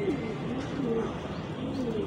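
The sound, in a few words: Teddy pigeons cooing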